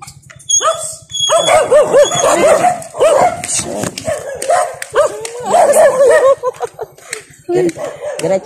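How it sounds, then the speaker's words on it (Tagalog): A crowd of dogs near a grotto barks, yips and whimpers almost without pause, loud and close, over a low hum, with people talking now and then. "Oh my god, dami ang aso."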